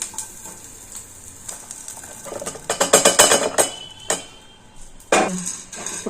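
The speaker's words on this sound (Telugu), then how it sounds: "పుట్నాలు కూడా వేయించుకోవాలి" Roasted gram (putnalu) being stirred and tossed in a pan for coconut chutney, with rattling, scraping bursts of dry grains against metal that come in uneven clusters, close and fairly loud.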